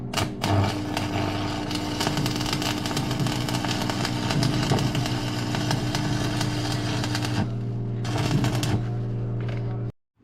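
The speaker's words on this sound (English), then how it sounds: "what we're going to do is cut them and then weld them in the middle" A power tool cuts metal panels for a fire extinguisher bracket in a Nissan 350Z, its harsh, buzzing motor running loud and continuous for about ten seconds. It cuts off abruptly at the end, with no voices.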